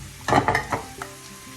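Sliced bitter gourd fries in a pan while a utensil stirs it, with a few short scraping clatters over a soft sizzle, heard close and fairly quiet.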